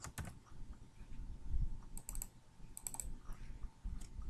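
Light typing on a computer keyboard, with quick bursts of key clicks broken by short pauses, close-up and fairly quiet.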